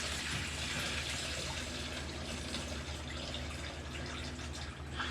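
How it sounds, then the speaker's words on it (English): Coolant draining and dripping from the bottom spigot of a Ford Windsor radiator, a steady close wash of running liquid with scattered drips that carries on without a break. "Dripping all over."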